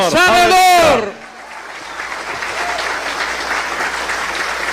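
Loud voice at the start, then steady applause from a church congregation rises and continues evenly at moderate volume to the end.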